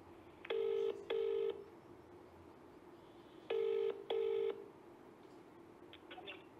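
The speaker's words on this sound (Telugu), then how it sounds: "ఒకసారి కాల్ చేద్దాం." Telephone keypad dialing tones while placing a call: two pairs of clear, steady beeps, each pair about half a second per tone, separated by a pause, over faint room hiss.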